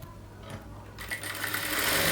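A sewing machine starts up to stitch a fabric side border, a soft motor whir building into a steady, louder mechanical run over about two seconds, close by and without talk.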